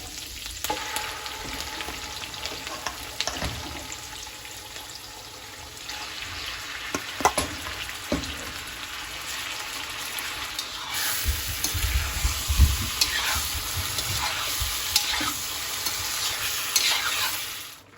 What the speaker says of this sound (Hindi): अब मैं इसमें चिकन डाल दूंगी।